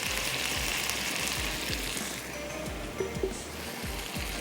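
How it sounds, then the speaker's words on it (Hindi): A spice mix frying in oil in a pan for street bun kabab gives a steady, moderately loud sizzle with soft, regular low knocks running underneath. "इसको हमने अच्छा सा भून लेना है ताकि हीट भी ख़त्म हो जाए"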